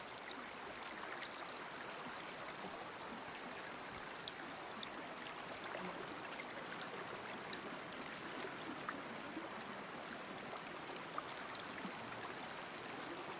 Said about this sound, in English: Oh, look at that. Running water.